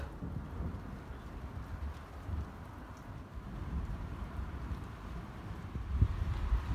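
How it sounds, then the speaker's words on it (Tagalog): A thunderstorm with heavy rain and thunder during a hailstorm sounds like a continuous, somewhat muted wash of rain over low, rolling rumbles, with a sharper swell near the end. "napakalakas ng kulog at kidlat"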